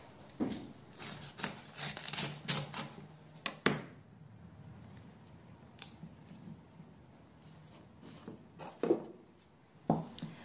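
A knife cuts a cauliflower into small pieces, giving scattered, close-up chopping and cracking sounds in irregular bursts, with quiet pauses between them and no voices.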